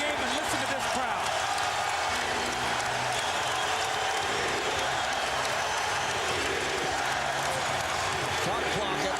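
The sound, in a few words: basketball arena crowd cheering for 76ers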